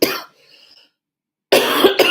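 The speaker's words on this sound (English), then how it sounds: "I can't help but keep coughing" A person coughs sharply once, followed by a brief quiet pause and then two more harsh, close coughs in quick succession, loud and alone with no talking.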